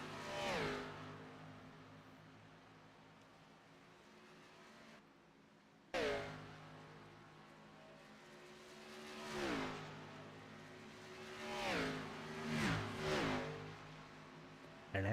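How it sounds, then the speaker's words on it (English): NASCAR Xfinity Series race cars lapping Atlanta Motor Speedway at night, engines droning steadily with several loud cars sweeping past in quick succession, their pitch swooping down as they pass, set against a constant background roar. "Drivers going to make their way back across the start-finish line."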